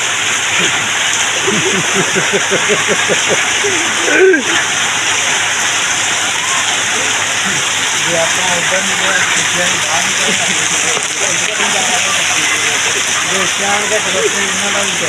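Steady heavy rain hisses across the whole recording, with people talking underneath it for much of the time.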